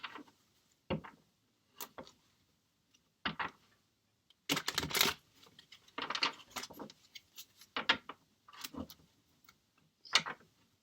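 Tarot cards being shuffled and thrown for a reading, heard as short papery riffles and slaps in scattered bursts, one longer flurry in the middle, close and fairly quiet with no talking.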